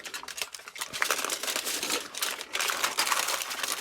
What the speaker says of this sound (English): now we're going to wrap this up in our foil.